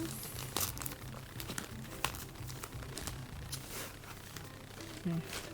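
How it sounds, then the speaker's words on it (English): Plastic wrapping crinkles and rustles as it is pulled off a new Coach Parker prairie floral print bag, close-up and continuous with a few sharper crackles, while a person talks. "So let's unwrap plastic"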